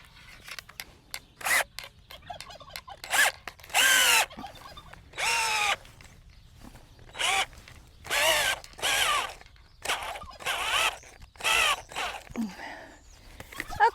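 A power drill boring into a wooden fence post at a ranch, running in repeated bursts of whirring that start and stop every second or so, close and fairly loud, with no talk.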